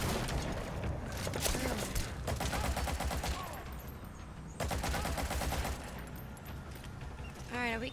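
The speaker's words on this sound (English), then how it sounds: "I hear gunshots." Gunfire in the video game Metal Gear Solid V: rapid bursts of automatic fire come in sustained volleys, with short gaps between them, mixed with game sounds and spoken voices.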